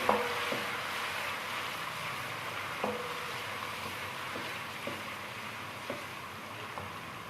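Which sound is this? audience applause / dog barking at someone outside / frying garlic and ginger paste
frying garlic and ginger paste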